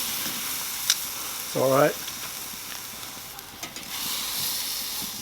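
Tri tip flipped over a hickory fire, with a brief loud sizzle under a steady outdoor hiss and crackle. A short spoken remark comes just before the sizzle.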